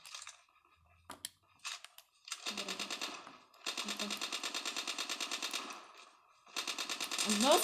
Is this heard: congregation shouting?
no